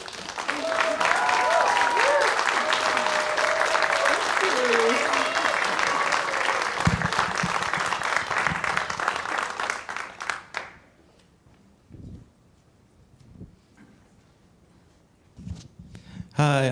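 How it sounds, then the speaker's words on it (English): Church congregation at a Unitarian Universalist Sunday service applauding, a dense sustained burst of clapping for about ten seconds with a voice speaking over it, then tapering off to scattered claps and quiet. "please stand up and we'll give you a thank you applause."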